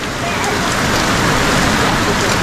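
Steady rain drums on a parked car outdoors, a dense, continuous hiss of drops striking the roof and body, loud and close, with no pause throughout.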